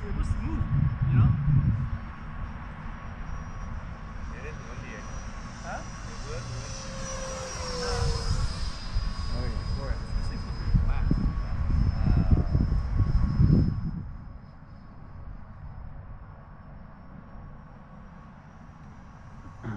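A model airplane flies overhead at a club field, its engine drone rising and falling in pitch as it passes, loud at first and then fading into the distance, with people talking nearby.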